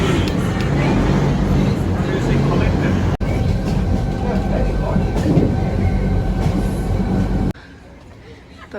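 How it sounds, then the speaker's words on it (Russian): A rail car rumbles and rattles steadily as it pulls away in Rio de Janeiro, with voices talking over the mechanical noise before it suddenly cuts to quiet. "Снова ждем отправления вагончика, уже закрываются двери."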